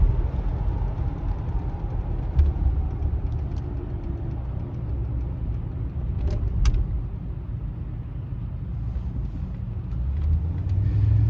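Low, steady rumble of a 1973 Mercury Marquis Brougham Coupe cruising, heard from inside a quiet cabin, with faint rattles and small clicks now and then.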